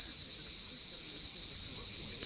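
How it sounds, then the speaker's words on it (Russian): Cicadas sing in a continuous, steady high-pitched drone, loud and unbroken, outdoors near a beach at Koktebel with no talking. "Вот такие звуки от цикад, друзья."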